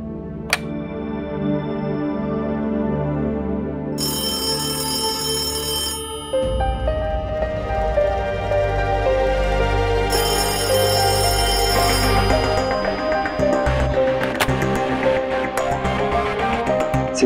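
A phone's ringback tone sounds steadily during an outgoing call to Naina, a repeating electronic ring pattern over a continuous background hum, with no talking.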